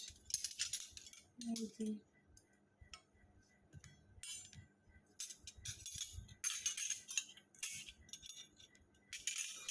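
Brass household trinkets clink and tap together in scattered bursts as they are handled, close and moderately loud, with someone speaking briefly over them.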